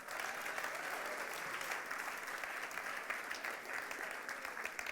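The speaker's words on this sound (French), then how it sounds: "On peut applaudir Dieu pour ça." A church congregation applauds in a steady, even wash of clapping that sounds distant and fairly soft, continuing throughout with no speech on top.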